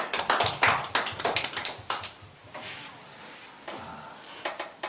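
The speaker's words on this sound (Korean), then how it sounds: "우리에게 은혜 주신 하나님께 영광의 박수 올려드리겠습니다." A church congregation at a Sunday service claps together, giving a sparse, fairly soft burst of hand claps that thins out in the middle and picks up again briefly.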